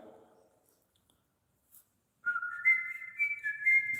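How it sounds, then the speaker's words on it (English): Clear whistled jingle from the Old Spice commercials, a bright looping melody starting after a short pause and running steadily to the end, close and fairly loud with no talking. "Can you whistle the Old Spice jingle?"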